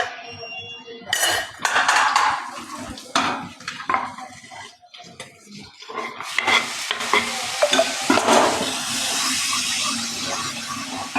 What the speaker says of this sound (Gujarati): હવે વઘાર આવી ગયો